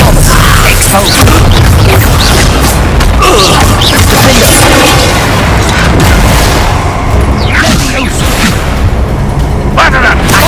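Loud, continuous spell blasts and booming impacts from a wizarding video game, with whooshes and crashes overlapping throughout a dense, chaotic duel.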